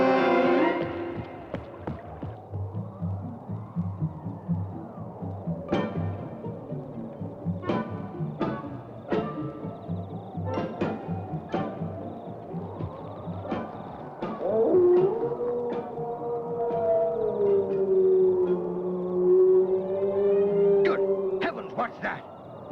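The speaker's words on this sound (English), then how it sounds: "That's the cry of a hound." A distant, mournful hound's cry carries across an open moor at night, a long wavering howl rising and falling in pitch and sounding far off, surrounded by other faint noises.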